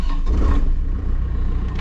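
Engine of a newly acquired used machine, started up and running steadily, a loud, continuous low rumble close by with no voices.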